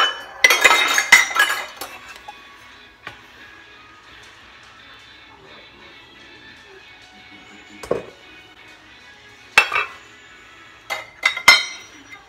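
Dry cookie ingredients, including flour, mixed in a bowl for Christmas cookies, giving scattered clinks and scrapes of a utensil against the bowl in bursts with quiet gaps between, fairly close.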